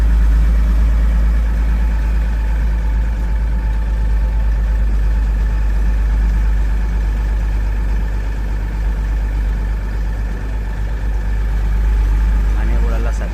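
An old SC truck engine idling, a steady loud low rumble that holds unchanged without revving.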